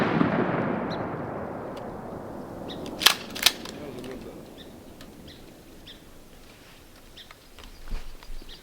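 Shotgun blasts while duck hunting in Mississippi, two sharp reports close together, with fainter distant pops and a soft voice afterward, set over outdoor ambience.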